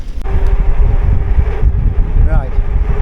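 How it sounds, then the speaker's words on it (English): Strong wind blows hard on the microphone at Ogden Waters, a dense, close rumble that persists while someone speaks over it. "I think it's going to be bloody windy if I go up on tops."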